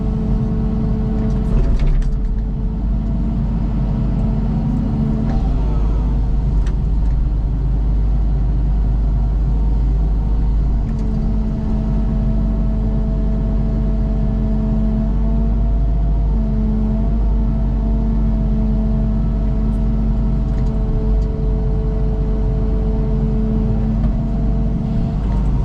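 Caterpillar 308E excavator diesel engine running steadily at throttle setting 6, a loud continuous rumble with a steady droning tone throughout and no talk.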